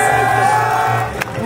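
A packed crowd at an NCAA tournament baseball game between Maryland and UConn roars with sustained cheering and shouts, loud and dense throughout, dipping slightly near the end.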